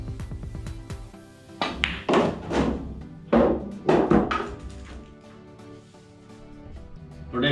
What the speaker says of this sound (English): I can actually go with a stun shot on the 7 ball going one rail